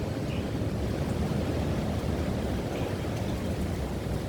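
Strong, roaring gusts of wind during a typhoon at Hong Kong's signal number 10, a dense, continuous rush blowing steadily without letup and buffeting the microphone.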